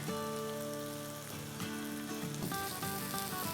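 Onion-tomato masala frying with half a cup of yogurt in a pan for egg curry, a steady sizzle and crackle under a loud tonal music bed that dominates throughout, with no speech.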